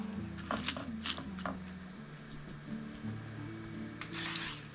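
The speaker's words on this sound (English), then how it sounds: "Spray the back of my spoon here with some camp." A few short hissing spray bursts, then a longer spritz near the end, over a low background hum.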